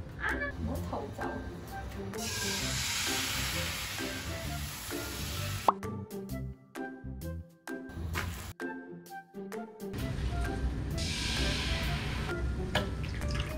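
A thin egg-batter crepe layer for a layered cake sizzles in a pan, bursts of hissing frying alternating with quieter gaps, plops and clinks, close and moderately loud.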